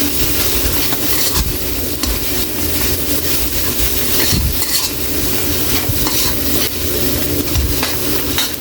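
Beef caldereta sizzles in a pan as broth is poured back in, a loud continuous bubbling hiss with scraping stirring strokes throughout, close and unbroken.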